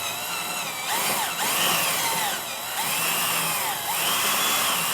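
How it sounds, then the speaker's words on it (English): A 1/4 inch bit drilling into the hull of a Yamaha SuperJet 4-stroke jet ski to mount wedge sponsons, the drill whining loudly and steadily with short bursts that ease and rise again, close up and without talk. "we're going to take our 1/4 inch drill bit and get started drilling into this"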